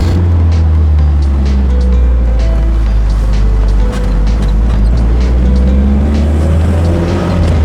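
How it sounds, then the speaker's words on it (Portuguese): A 1994/1995 Opel Kadett GSi Bertone engine pulls hard under acceleration, a loud, close, sustained drone that holds steady the whole way through with no talking. "Ataquezinho no Kadett, o pedal é mais legal do que de muito carro."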